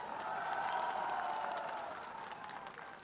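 A crowd at a political gathering applauds, the clapping a dense, steady wash of many hands that stays fairly even and fades slightly near the end.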